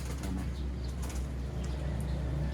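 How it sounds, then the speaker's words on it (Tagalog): Racing pigeons kept in a loft coo softly on a rainy day, their low murmurs mixed into a steady wash of rain and background noise. "Ayan, yung mga ibon natin"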